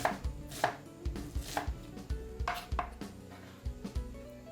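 A knife finely chops a small white onion on a board, with quick, irregular, crisp taps close up and a low background hum underneath.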